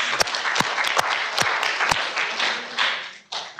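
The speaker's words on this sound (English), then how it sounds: "Round of applause for Ewa." A conference session audience claps for a speaker, a broad wash of applause with a few sharp, close individual claps standing out, tapering and breaking up near the end.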